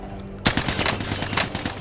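Rapid automatic gunfire in the Call of Duty shooter game starts abruptly and continues as a dense, loud burst of close shots.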